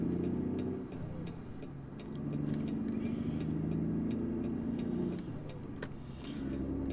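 A truck engine in the game American Truck Simulator drones low and steady as it accelerates, the rumble dipping briefly and then climbing again at each gear change, with no voices over it.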